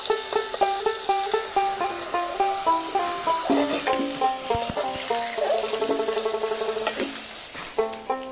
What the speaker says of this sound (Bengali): এইভাবে সব চিংড়িগুলো ভেজে নেব বন্ধুরা।